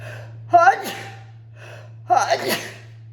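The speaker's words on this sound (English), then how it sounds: "Okay, I have to sneeze." A person sneezes twice, each a sharp breathy burst preceded by a gasping intake, close and clear over a steady low hum.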